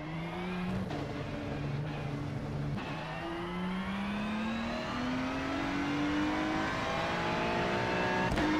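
A Ferrari 296 GT3 race car in iRacing at Mugello, its engine note rising steadily through the gears in repeated upshifts, loud and close, with a continuous revving drone throughout.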